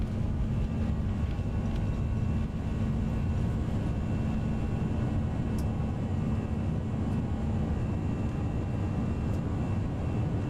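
Steady, loud roar of airliner jet engines at takeoff thrust during the takeoff roll in the X-Plane 11 flight simulator on a Madrid to Frankfurt flight, a dense continuous rumble with no breaks.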